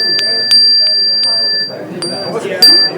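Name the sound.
bell ringing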